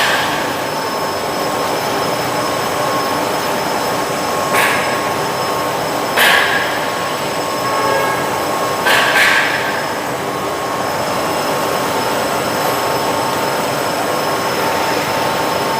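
A stone paper making machine runs at production speed, giving a loud, continuous mechanical roar and hum with a faint high whine. A few short metallic clanks break through along the way.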